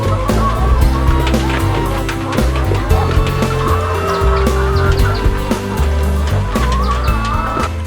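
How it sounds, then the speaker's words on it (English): A crowd of sasso chickens clucks and squawks inside poultry house compartments, a dense, close, continuous chorus of overlapping calls with occasional louder cackles, over a low steady hum. "So this group of chicken housed in these other compartments are called sasso, and they are more vocal"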